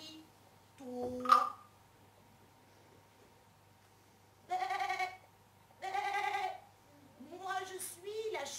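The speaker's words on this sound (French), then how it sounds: "Moi, je suis la chèvre à barbichette." A bearded goat bleats several times in a quiet garden, with short wavering cries spaced by silence, one near call followed by a few longer tremulous bleats.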